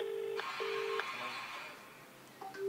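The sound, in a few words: telephone dialing a call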